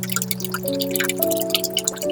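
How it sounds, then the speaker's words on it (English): Liquid runs through tubing as a fluid management system is primed, giving a steady close trickle with faint dripping and gurgling over a constant mechanical hum, with no talk. "once some liquid passes through the tube, I am satisfied that there is no bubble inside"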